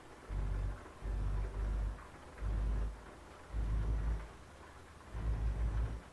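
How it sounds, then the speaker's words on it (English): Steady rain hisses in the Euro Truck Simulator 2 driving game, with deep rumbling swells rising and fading every second or so beneath the constant downpour. "Lovely rainy day."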